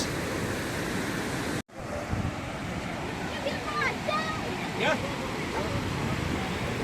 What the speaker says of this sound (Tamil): தண்ணி விழுற சத்தம் பாருங்கள், எவ்வளோ அழகாக இருக்குது.